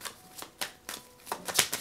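Tarot cards are shuffled in quick repeated riffling bursts, about six crisp snaps in under two seconds, close and clear with no speech.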